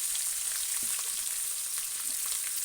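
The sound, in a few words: frying and stirring chopped onion and green chillies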